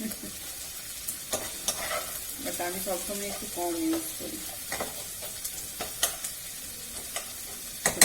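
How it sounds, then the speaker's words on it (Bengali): Chopped onions fry in a pan for spicy chicken bhuna masala, a soft sizzle with repeated scraping stirs and clinks of a spoon, while someone talks over it. "পেঁয়াজটা একটু ভাজা হতে থাক,"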